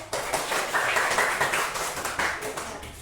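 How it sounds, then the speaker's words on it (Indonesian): A group in a classroom claps together in a brisk, rhythmic burst of applause, the hand claps close and fairly loud, keeping a patterned beat for about three seconds. "beri tepuk tangan dulu"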